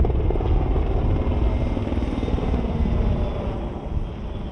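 An Atlas Oryx military helicopter hovers during an army exercise while releasing a slung load. Its rotor gives a loud, steady, throbbing drone throughout.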